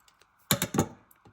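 Scissors snip through pearl cardstock paper three times in quick succession, crisp and close, with faint taps before and after.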